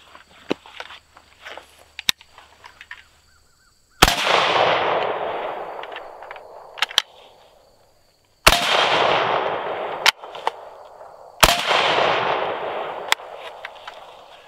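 An AK rifle firing with its gas tube removed, heard outdoors as several loud, sharp single shots spaced seconds apart, each followed by a long rolling echo, with softer clicks and handling noises between them.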